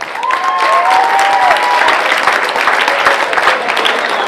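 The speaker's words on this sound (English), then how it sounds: "How about a nice round of applause for the Andover Country Club's own Danny Muccio." Audience applause for Danny Muccio of the Andover Country Club at a Woburn Country Idol competition, a dense, steady wash of clapping that carries on evenly, with a brief whistle-like tone near the start.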